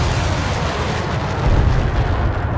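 A vehicle-mounted weapon fires in the War Thunder video game, a loud, dense blast of rumbling noise that swells briefly partway through.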